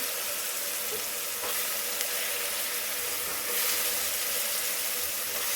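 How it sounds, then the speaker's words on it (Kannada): Sprouted legumes tumble into a pan of softened, frying tomatoes, raising a steady close sizzle with faint stirring scrapes and no talking. "ಈಗ ನಾನು ಭಾನುವಾರ ಮೊಳಕೆ ಕಟ್ಟಿರೋ ಕಾಳುಗಳನ್ನು ಹಾಕೋತೀನಿ"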